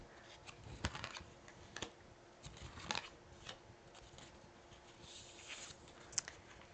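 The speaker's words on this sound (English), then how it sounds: "I'm going to go ahead and lay these cards out." Tarot cards from the Transient Light deck laid out on a table: faint, soft taps and slides of card on surface, spaced irregularly and heard close in a quiet room.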